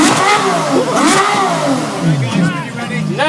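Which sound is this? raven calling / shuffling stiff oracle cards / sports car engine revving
sports car engine revving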